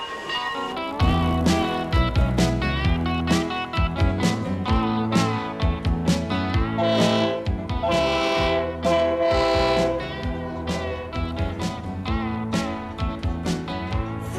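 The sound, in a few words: freight train passing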